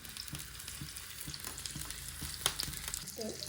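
Finely chopped shallots frying in oil for beef kurma, a soft, steady sizzle with regular scraping strokes of a spatula stirring the pan, close and alone.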